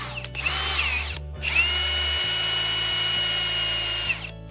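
A power drill set on high drives a countersunk screw into a garden box without a pilot hole, two loud close whirring runs, a brief stop, then a long steady run that winds down.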